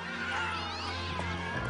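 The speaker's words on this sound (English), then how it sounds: "Herding cats. Don't let anybody tell you it's easy." Cat meowing in a played clip about cat herding, a drawn-out wavering meow over a steady low hum, close and fairly loud, with no talking.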